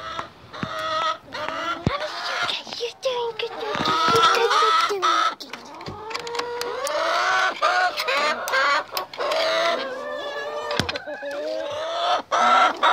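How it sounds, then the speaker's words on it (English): A flock of backyard chickens clucks and squawks continuously up close, dense overlapping calls filling the whole stretch with occasional louder cackles. "Today, I'm looking at my beautiful chickens."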